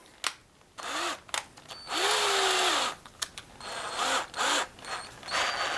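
A power drill whirs in short bursts, its motor pitch rising and dropping as it drives a screw into kitchen cabinets, with brief pauses and clicks between runs, close by.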